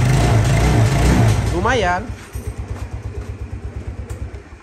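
A 2019 Vespa S125 automatic scooter engine settles into a steady, rhythmic putter at close range after someone speaks briefly over it.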